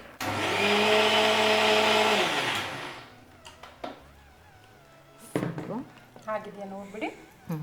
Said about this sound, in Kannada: ಇದೊಂದು ಕಾಯಿನ ಮಿಕ್ಸಿಗೆ ಹಾಕಿ ಹಾಲು ಬೇಕಲ್ಲ ನನಗೆ ಓಕೆ ಇದನ್ನ ಈಗ ಮಿಕ್ಸಿ ಮಾಡಿ ಕೊಡ್ಬೇಕಲ್ವಾ